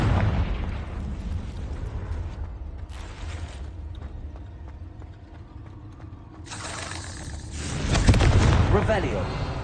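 A Confringo spell in Hogwarts Legacy bursts into a loud game explosion with roaring, crackling rumble over continuous game sound effects, and a voice is heard.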